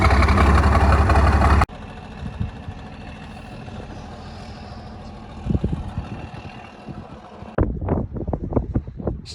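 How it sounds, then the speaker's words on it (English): Wind buffets the microphone outdoors during grain harvest, a loud rough roar that cuts off abruptly, leaving a softer steady breeze with a few gusts and faint clatter afterwards. "It's nice and windy up here today."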